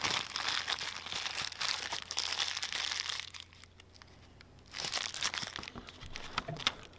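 Sheet of wax paper crumpled by hand for oil painting texture, crisp crinkling bursts close up, pausing briefly midway before resuming.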